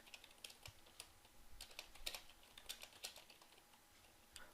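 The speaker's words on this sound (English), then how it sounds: "And in here, I can go ahead and type," Computer keyboard typing into a website editor: quick irregular clusters of light clicks and taps at a steady moderate level, close by, with no speech.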